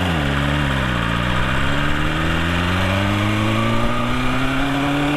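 BMW S1000RR motorcycle engine pulling hard, a loud, continuous close-up drone rising steadily in pitch as it accelerates into a wheelie, with no talk.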